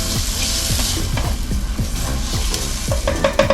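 Food sizzles loudly on a buttered flat griddle, with a constant frying hiss and repeated scraping strokes of a spatula, plus a few light metallic clinks near the end.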